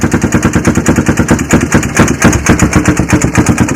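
A Honda 400EX ATV idles with the choke on just after a cold start. It gives a loud, close, rapid and steady thumping beat that never lets up, with no voices over it.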